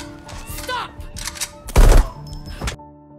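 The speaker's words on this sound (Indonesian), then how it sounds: "si pria pun akhirnya tertembak" Gunshots in an action film scene from The Old Guard. A few sharp close shots ring out, with one heavy blast near the middle, among thumps and other scene noise, and a voice can be heard.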